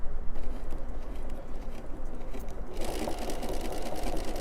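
Sewing machine running steadily while stitching a Cuddle quilt, a continuous close mechanical whir that grows louder and busier partway through, with no talking.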